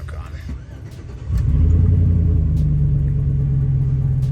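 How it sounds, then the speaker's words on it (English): A Chevrolet Silverado crew cab truck engine cranks and fires about a second in, settling into a loud, steady low rumble, with faint clicks before the start. "I'll turn the truck on."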